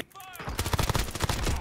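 Rapid bursts of automatic gunfire in the video game Warzone crackle in dense, overlapping volleys. They follow a brief quiet, tonal moment at the start.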